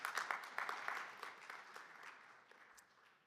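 Audience at a droidcon Berlin developer presentation giving a brief round of applause, scattered claps loudest at the start and tapering away over a few seconds, fairly faint and distant.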